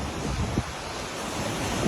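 Floodwater rushes past a broken bridge during major floods in Sri Lanka, after a reservoir spillway overflowed, a steady loud roaring wash with wind buffeting the microphone and one brief thump.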